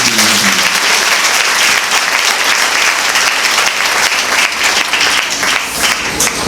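Loud, sustained applause from a church congregation at a worship service fills the space continuously, dense clapping from many hands with a faint murmur of voices beneath.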